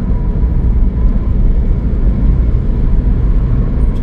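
A Ford Fiesta 1.0 EcoBoost accelerates hard, its engine giving a loud, steady, dense rumble that stays even throughout, heard from inside the car with no talking.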